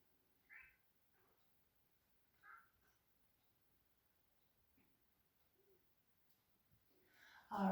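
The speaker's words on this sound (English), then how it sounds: "Hello, Chow Meow." A cat gives a few faint, soft meows spaced seconds apart in a quiet room during a yoga session, ending with a louder, closer burst of sound.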